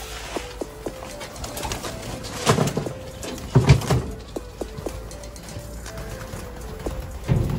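Pigeons peck at feed on a hard surface, giving sharp tapping pecks in irregular bursts, with cooing and bird calls around them.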